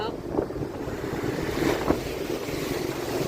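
Rushing water flows steadily at a river crossing on the road to Ladakh, a broad churning wash mixed with wind buffeting, with faint splashes and murmured voices underneath.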